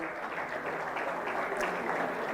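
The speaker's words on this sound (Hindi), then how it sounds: "जोरदार तालियां हो जाए" A crowd at an outdoor protest rally in Jaisalmer applauds as a guest is welcomed on stage, a steady, fairly faint wash of clapping with no talk over it.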